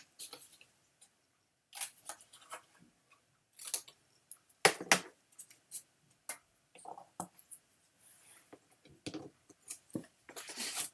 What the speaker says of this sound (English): Let's cut out that extra piece.